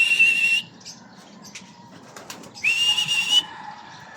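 Two sharp, high sustained whistles, calling pigeons back, are separated by a quiet gap with faint fluttering and scattered light noises.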